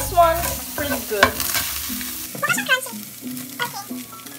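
Bangus (milkfish) sisig is stirred in a sizzling pan, with irregular scraping and clattering strokes of a utensil over a low frying hiss, close and fairly loud.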